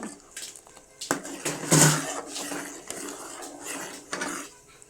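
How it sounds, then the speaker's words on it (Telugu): A spoon scrapes and clinks against a pot as homemade ghee is stirred over a low flame, with irregular metallic knocks and soft bubbling. "ఇలా లో ఫ్లేమ్లో పెట్టుకొని మంచిగా నెయ్యిని కలుపుకోవాలి, లేకపోతే పొంగిపోతుంది."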